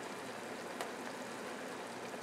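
Tap water runs in a steady, even stream into a cooking pot while ramen is being made, a continuous close hiss with no pauses and no voices.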